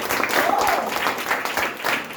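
An audience claps loudly and steadily in a hall for a couple of seconds, dense applause with a faint voice underneath.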